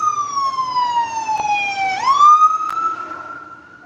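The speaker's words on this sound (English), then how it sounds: "We got an ambulance coming. It's going to be noisy through here, guys." An ambulance siren wails past a busy outdoor city farmers market, a loud sweeping tone that slides down, then swoops up as it passes close by, with faint market background noise underneath.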